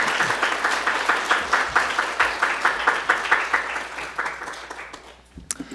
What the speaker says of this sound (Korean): 할렐루야와 함께 큰 박수로 환영했으면 좋겠습니다